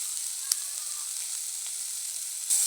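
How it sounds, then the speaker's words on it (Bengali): Snails stir-fried with salt and turmeric in a pan give a steady, moderately loud sizzle with a few sharp ticks and a brief louder burst near the end, no voices. "নুন আর হলুদ দিয়ে একটু নাড়াচাড়া করে নেব, সামান্য একটু ভাজা ভাজা করে নেব।"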